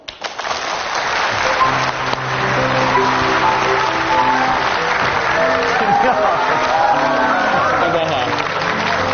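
A television studio audience applauds loudly to welcome a composer onto a talk show, with a swell of music playing beneath the continuous clapping for about nine seconds.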